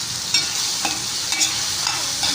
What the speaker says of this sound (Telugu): మంచిగా ఆయిల్లో ఫ్రై చేయాలి కీరాని